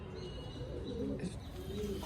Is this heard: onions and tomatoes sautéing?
no